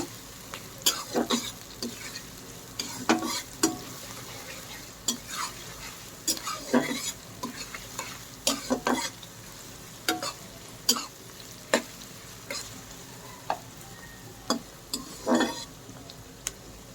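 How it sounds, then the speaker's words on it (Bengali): Onions fry in a pan to light brown for a Bangladeshi beef dish, with a soft steady sizzle under regular scraping strokes of a spatula or spoon against the pan, close up. "এখন পেঁয়াজটা হালকা বাদামি করে ভেজে নেব।"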